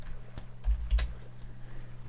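Keys clack on a computer keyboard in a few quick, light taps, close and fairly quiet over a steady low hum.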